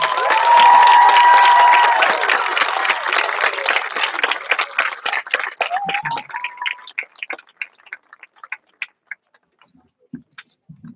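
Loud crowd applause with cheering at a 5th grade promotion ceremony honouring parents, dense at first, then thinning into scattered individual claps that fade out near the end.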